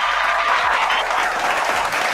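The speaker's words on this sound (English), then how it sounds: "We got to clap it up." Steady applause from a studio audience on a sports talk show, a dense wash of clapping held at even loudness for the whole stretch, with no voices heard over it.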